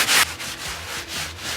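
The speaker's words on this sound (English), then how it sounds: "I got a ball of aluminum foil. That's what I like to use to clean these grates." Ball of aluminum foil rubbed back and forth across barbecue grill grates on a Chud Box smoker, a close, gritty scraping with a loud first stroke followed by rhythmic softer strokes.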